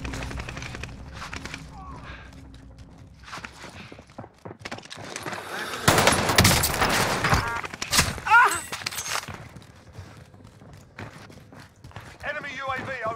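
Rapid bursts of gunfire in the Call of Duty Rebirth Island battle royale, loudest in a dense cluster midway, mixed with game effects and footsteps while a player talks throughout.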